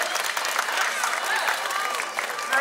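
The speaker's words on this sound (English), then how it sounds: "Let's give him another round of applause" A crowd claps steadily at the Tiger Island show at Dreamworld on the Gold Coast. The applause is continuous and fairly near, with a few voices mixed in.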